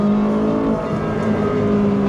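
A naturally aspirated supercar engine with a 7-speed dual-clutch gearbox and 600 horsepower runs on a racetrack, giving a loud, steady, sustained drone close by with no pause and no talk.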